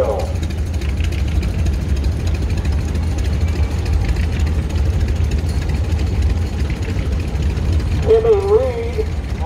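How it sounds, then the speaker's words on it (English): A 1950 John Deere AR tractor rolling past in a farm club tractor parade, its engine giving a steady low chugging rumble with mechanical rattle throughout, loud and close, with a brief voice near the end. "We have a John Deere AR, it's 1950, owned by Dustin Harper in Clarksville."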